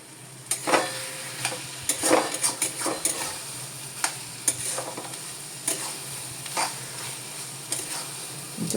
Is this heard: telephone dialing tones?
no